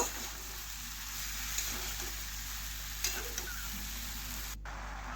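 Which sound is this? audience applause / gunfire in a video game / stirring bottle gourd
stirring bottle gourd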